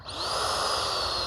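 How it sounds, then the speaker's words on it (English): An FMS F-16 64mm electric ducted-fan RC jet running reverse thrust gives a steady, high-pitched turbine whine that holds close and loud for just over a second, with no talking. "Reverse thrust works real well."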